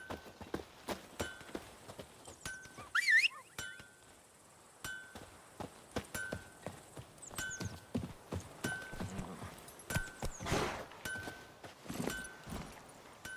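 A horse's hoofbeats in The Witcher 3, a steady clip-clop rhythm of hooves at a moderate pace, fairly faint and alone, with a brief whinny early on.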